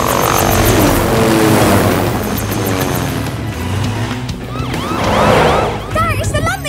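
Rescue helicopter from the PAW Patrol cartoon flying, its rotor drone loud and steady throughout under a busy music score, with cartoon voices and sound effects joining near the end.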